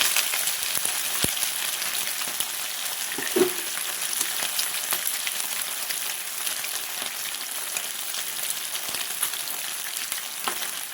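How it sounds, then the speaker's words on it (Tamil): Masala-coated fish fries in hot oil in a pan, giving a steady, dense sizzle that carries through without a break, with a brief spatter near the middle and no talk. "இப்போ மசாலா தடவி வச்ச மீன் எடுத்து பொரிச்சு எடுத்துக்கலாங்க"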